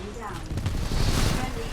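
Flatline rifle fire in the game Titanfall 2 rattles out as a dense, loud burst of rapid shots and booms that fills the whole moment, with a voice faintly mixed in.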